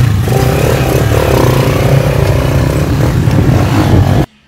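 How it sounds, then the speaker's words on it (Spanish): A motorcycle engine runs loud and close, holding a steady, rough drone with slight surges for several seconds before cutting off abruptly; no voices are heard. "Prende esa moto."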